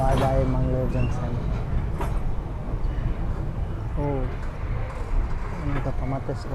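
A Mangalore–Mumbai superfast express train slows down with a heavy, low, continuous rumble heard from on board, while people talk over it.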